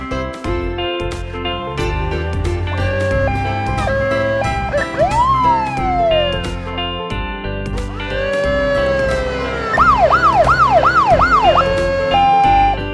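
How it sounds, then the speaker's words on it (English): Siren of a police utility vehicle, loud and close, cycling through two-tone hi-lo blasts and a long rising-falling wail before breaking into a fast repeated yelp near the end, with no voices. "Police utility."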